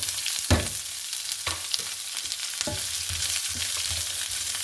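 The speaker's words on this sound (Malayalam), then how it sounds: "ഇതേപോലെ ഞാൻ ഒരു വലിയ ഓണിയൻ ഇതേപോലെ സ്ലൈസ് ചെയ്തെടുത്തതും വേപ്പിലയും ഇതിനകത്തേക്ക് ആഡ് ചെയ്യുന്നു." Sliced onion and curry leaves sizzle loudly in hot oil in a pan for a Kerala horse gram and carrot thoran, a steady crackling hiss with a few stirring clatters and no talk.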